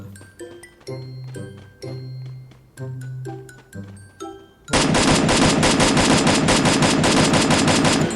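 Gunfire in the shooter game Free Fire: a few spaced single shots at first, then a loud, unbroken burst of rapid automatic fire that runs to the end, close and dense with no talk.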